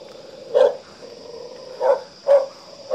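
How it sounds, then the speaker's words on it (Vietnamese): Dogs bark from a rural hillside village, giving four separate woofs at uneven intervals over a steady high electrical hum; the barking is moderately loud and carries with no speech. "Ở dưới kia thì chó sủa rất là ghê"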